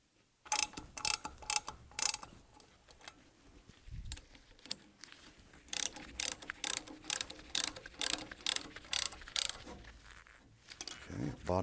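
Ratchet wrench tightening bolts on a close-coupled pump casing during kit assembly, heard as bursts of quick clicking strokes in repeated runs with pauses between, close and fairly clear.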